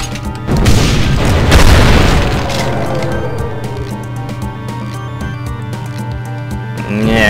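Heavy rocket explosions in the shooter Doom, a loud boom swelling early and then a dense rumbling wash of blasts and game noise continuing throughout.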